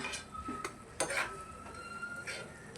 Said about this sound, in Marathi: आपण झाकण काढून बघूया